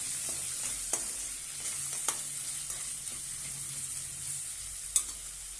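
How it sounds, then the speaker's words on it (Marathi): Spices for methi pulav sauté in a hot pan with a steady sizzle, while a spoon stirs and taps the pan at irregular moments. No one speaks. "आता छानपैकी परतून घेऊया"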